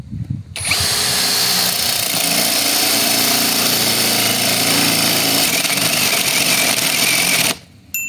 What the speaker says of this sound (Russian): сверлим в режиме сверления и на максимальной второй скорости